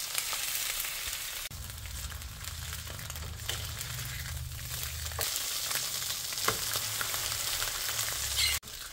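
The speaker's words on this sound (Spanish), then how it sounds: "Dos penquitas de nopal que vamos a freír." Ham slices and nopal cactus paddles fry in a pan with a steady, close sizzle and bubbling crackle that shifts in intensity across the stretch, with no voices.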